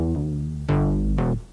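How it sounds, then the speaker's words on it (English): A few retro synthesized MIDI notes with bright, buzzy electronic timbres, the second and third struck sharply and decaying quickly, sounding like early computer music. "MIDI used to sound like this."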